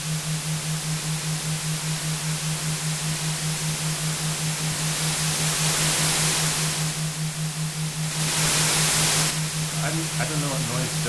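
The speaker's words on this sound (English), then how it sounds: "this is the white noise" Generated white noise from a Flutter audio app plays as a steady, loud hiss with a low pulsing hum beneath it, and brief talk comes in near the end.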